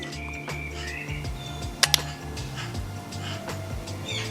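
A car jump starter clicks steadily and rapidly at an even rhythm, close by, with a couple of sharper clacks partway through and no talking.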